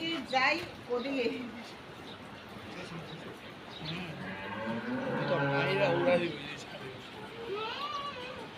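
Fat, healthy cattle at an Eid livestock market give a drawn-out low moo amid crowd noise, with people talking nearby before and after.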